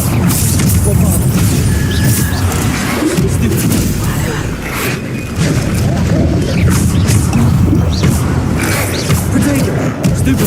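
Bombarda explosion spells blast repeatedly in Hogwarts Legacy combat, heavy booms and crashing impacts layered over a dense, loud game soundscape with bursts of in-game noise throughout.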